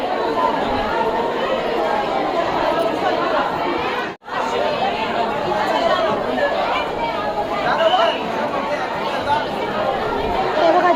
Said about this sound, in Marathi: जाम गर्दी आहे जाम गर्दी.